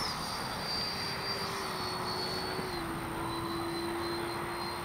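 A Freewing 90mm F4 Phantom II RC jet flies in to land, giving a steady turbine whine with a faint falling tone, moderately loud and unbroken, with no talk.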